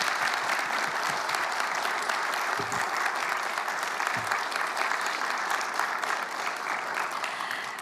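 A large crowd at a Korean government town-hall forum claps steadily and continuously after the president's speech, a dense wash of applause that fills the whole stretch without talk.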